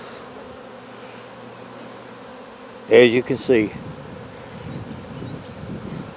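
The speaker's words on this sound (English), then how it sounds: "a lot of bees" A swarm of honey bees at a big hive gives a low, continuous buzzing hum throughout, with someone speaking briefly partway through.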